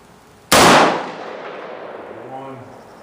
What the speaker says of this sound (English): So let me take a couple more shots here for you guys.